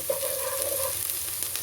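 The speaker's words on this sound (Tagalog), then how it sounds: "Susunod naman natin ang ating sibuyas. Ayan, halo-haluin lang natin hanggang sa mag-light brown ang kulay." Onions sauté in a hot pan for pork adobo with eggs, a steady close sizzle with soft scraping stirs of a utensil across the pan, no voices.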